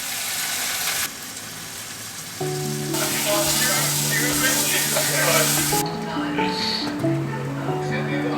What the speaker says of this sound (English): So at the moment I'm just frying the onion and chicken and garlic.